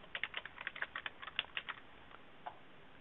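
Quiet, rapid keystrokes on a computer keyboard, a quick burst of clicks that thins out to a few last taps.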